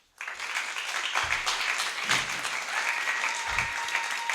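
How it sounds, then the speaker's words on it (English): Audience applause at an open mic night in a creative cafe fills the space with dense, steady clapping that begins abruptly and carries on evenly, with a few low thumps and brief murmurs mixed in. "Can we get another round of applause for Nomadic Libah, aka Ali?"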